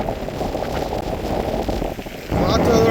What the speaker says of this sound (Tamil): ஓ, இந்த காற்று இப்படி அடிக்குது.